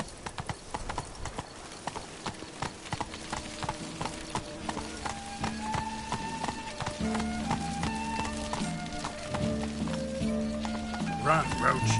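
Roach the horse gallops in The Witcher 3, with rapid, rhythmic hoofbeats up close and a brief whinny, mixed with game music and a speaking voice.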